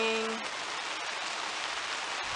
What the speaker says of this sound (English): Bad, it's raining.